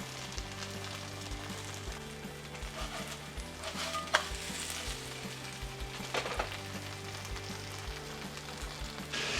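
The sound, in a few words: Korean pancake frying in butter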